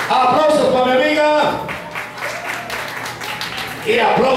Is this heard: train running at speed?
no